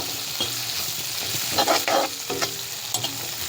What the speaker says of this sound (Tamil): போட்டு நல்லா அப்படி வதக்குங்க.